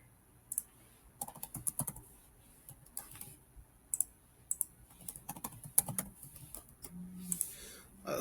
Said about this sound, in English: let me just go ahead and type in a random password here.